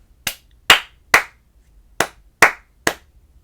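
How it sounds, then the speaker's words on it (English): A music teacher claps a rhythm alone with bare hands: six sharp, close claps in two groups of three, each group a quick pair followed by a slightly longer gap, with silence between. "I'll clap a rhythm and then you tell me what the fruits are."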